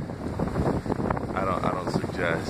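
Strong West Texas sandstorm wind buffeting a microphone outdoors, a steady broadband roar with gusty swells, heard under a person talking close by.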